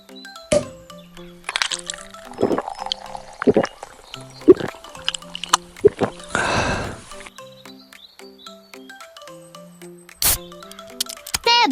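A cartoon bunny drinks sweet fizzy soda: playful liquid gulps, drips and sharp popping cracks, plus a short fizzy burst, are scattered over light tonal music.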